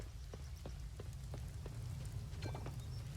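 Steady soft rain in the farming life-sim game Coral Island, a continuous faint hiss with scattered light drop patters and no talking.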